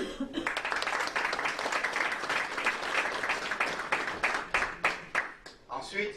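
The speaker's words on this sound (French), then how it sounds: "Il faut l'applaudir" An audience at a political address in Montreal breaks into applause, a dense patter of clapping with scattered louder claps that thins out toward the end, heard from a moderate distance.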